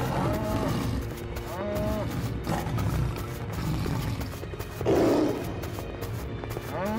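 Several cows moo repeatedly, some drawn-out and close, over a constant rumbling background with a burst of noise partway through.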